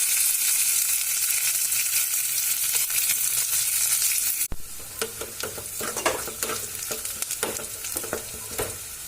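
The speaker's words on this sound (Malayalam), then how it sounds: "നമുക്ക് ചെറിയ ഉള്ളി ഇട്ട് കൊടുക്കാം, കുറച്ച് കറിവേപ്പില ഇട്ട് കൊടുക്കാം." Shallots and curry leaves sizzling in hot oil for a jackfruit curry, a loud steady hiss that drops suddenly to a softer crackle with stirring scrapes.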